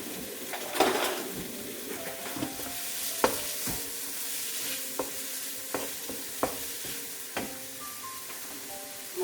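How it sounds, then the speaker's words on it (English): Spiced shrimp fry and sizzle in hot oil in a pan, a steady crackling hiss punctuated by repeated utensil clinks and stirring scrapes against the pan, close and alone. "add it to your oil. You cook this for 2 minutes"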